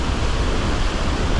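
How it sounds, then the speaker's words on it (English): Strong wind roars over rough open sea beside pedal kayaks, a loud steady broadband rush with crashing waves and no talking. "you can hear the wind"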